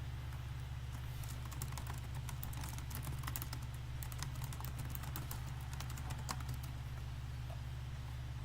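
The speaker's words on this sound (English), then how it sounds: "Can you hear me typing, by the way?" Keys click on a computer keyboard in a quiet room during an online Q&A call. The light, irregular taps are faint and patter steadily over a constant low hum, with no voices.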